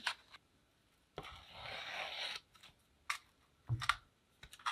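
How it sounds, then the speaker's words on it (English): Mixed two-part epoxy resin, parts A and B, being stirred in a cup: quiet, close scraping and tapping comes in short irregular bursts, with one longer scrape, and pauses of near silence in between. "So now I'm just going to mix these together."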